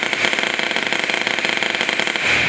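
Polar Star airsoft marker on a binary trigger, walked in rapid succession, producing a dense, fast stream of sharp pneumatic shots close up, continuous for a couple of seconds.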